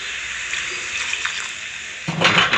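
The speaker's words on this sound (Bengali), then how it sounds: "এবার আমি ঠান্ডা জল এর মধ্যে দিয়ে দিলাম" Cold water poured into a prawn cauliflower curry in a pan, a soft trickle building to a sudden louder splash and sizzle near the end, close and without talk.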